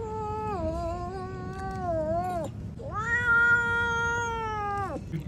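Drawn-out meowing from a kitten, two long tonal cries of about two seconds each with a short pause between them, close and loud against a low background rumble.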